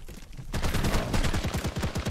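Rapid Gatling gun fire in the ARK video game, beginning abruptly after a short quiet moment and continuing as a loud, steady stream of close, evenly spaced shots.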